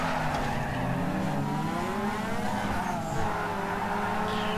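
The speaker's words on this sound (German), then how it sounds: "Boah, mein Wagen driftet jetzt wie ein junger Gott." A car drifts in the Need for Speed Underground 2 racing game, with sustained tire squeal over a revving engine that rises and falls in pitch, loud and continuous with no talk.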